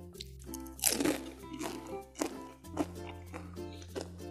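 Crisp fried spring rolls filled with creamy carbonara and cheese are bitten and chewed up close, giving several loud crackling crunches spaced through the moment, each followed by softer chewing.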